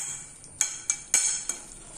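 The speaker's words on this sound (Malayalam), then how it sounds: "ഇതെല്ലാം കൂടി നന്നായിട്ട് ഇളക്കി യോജിപ്പിക്കാം" A spoon stirs vadukapuli lime pickle with plenty of curry leaves for an Onam sadya, giving four or five crisp clinks against the bowl spaced irregularly over a soft background.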